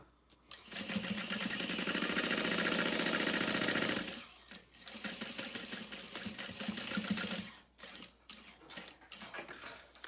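A sewing machine stitches a double row along a beauty bag zipper, running in a loud continuous burst for about four seconds, then in shorter stop-start runs with brief pauses between them.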